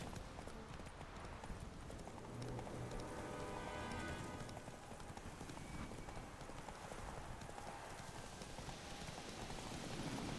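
A horse gallops in The Witcher 3 video game, its hooves clip-clopping in a fast, continuous patter under a dense, loud wash of game sound and music.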